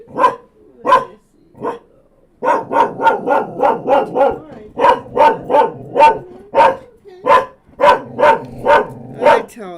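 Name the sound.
dog barking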